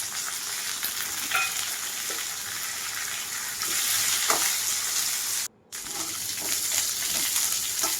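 Chopped garlic, green chili and onion sauté in hot oil in a pan, giving a steady, close sizzle with light stirring scrapes and a brief dropout midway.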